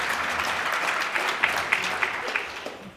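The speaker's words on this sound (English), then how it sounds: "Give them a round of applause" Audience applause fills a conference hall at a health policy leadership summit's opening plenary: steady, dense clapping with a few sharper claps standing out near the end.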